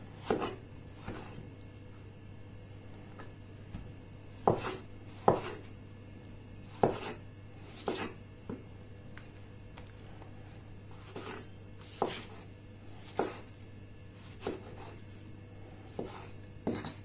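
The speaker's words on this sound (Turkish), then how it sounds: "Domatesler ince ince kesilebilir." A knife slices tomatoes thinly on a cutting board in a steady series of soft, close taps, irregularly spaced, against a quiet kitchen hum with no talk.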